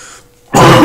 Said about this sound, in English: sorry for the cough again